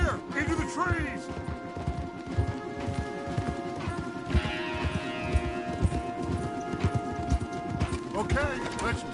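Rapid rhythmic hoofbeats of a horse galloping in the video game Red Dead Redemption, steady and close, mixed with game sounds and occasional shouted voices.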